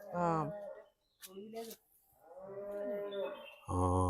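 Cows mooing on a rainy hill-country outing among cardamom fields near Anchuruli, Kattappana, several loud drawn-out moos close by with short gaps between them, a brief higher call in the middle.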